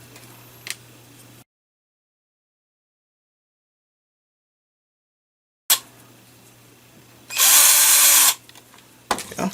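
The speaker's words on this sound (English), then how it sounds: "Oh, I think I forgot to drill these out." A power drill whines loudly in a single burst of about a second, drilling out a 3mm hole in a 3D-printed filament loader part, following a few light clicks and handling noises, with a long stretch of silence before it.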